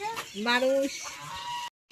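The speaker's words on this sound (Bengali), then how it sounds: "মুরগিতে খেয়ে নিচ্ছে টমেটো গুলা" A chicken gives a short rising cluck while eating tomatoes, close by, with faint background noise and a brief stretch of near silence at the end.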